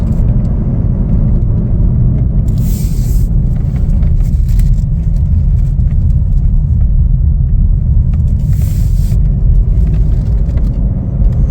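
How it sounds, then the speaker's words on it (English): A 2025 Chevrolet Trailblazer AWD LT cruising in two-wheel drive, giving a steady, loud low road rumble and engine drone from inside the cabin with no pauses, brief hissy swells now and then. "We're gonna take it for a spin in two-wheel drive."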